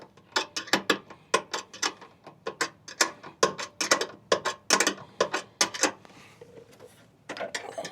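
Ratchet wrench cranking a metric bolt through a plastic part and rubber grommet on a dump trailer, a fast run of sharp ratcheting clicks in short bursts, close and fairly loud, with a brief pause near the end.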